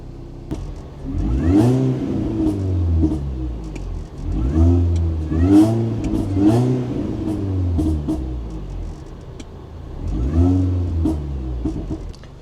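A nearby 2000s R53 Mini Cooper S engine, long unused, rumbles and repeatedly revs up and settles back, several rising surges of throttle over a steady idle.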